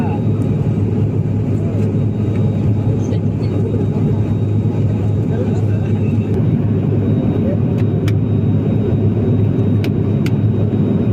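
Inside the cabin of an Alliance Air airplane flying from Bengaluru, steady loud engine roar fills the air as the aircraft turns and climbs, with a voice talking over it.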